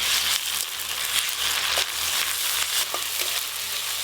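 Chopped onions with ginger-garlic paste frying in a pan, a loud continuous sizzle with occasional stirring scrapes, close and steady with no talking.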